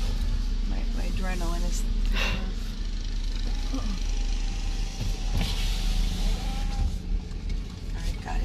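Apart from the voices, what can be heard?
car driving, heard from inside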